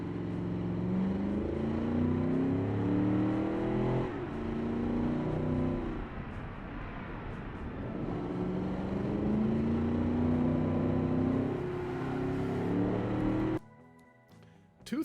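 A heavy 1954 car in the Automation game laps a test track after big upgrades. Its engine drones and revs steadily, pitch rising and falling through gear changes, then cuts off abruptly near the end.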